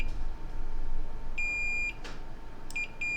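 Short, shrill electronic beeps of a multimeter continuity tester checking capacitors on a motherboard, one held for about half a second and then a few brief chirps, over quiet background hum.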